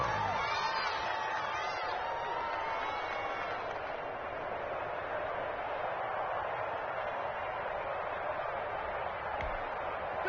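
Steady stadium crowd roar in a PS4 football video game, a constant wash of cheering and whoops sustained throughout at even loudness, with no clear talk over it.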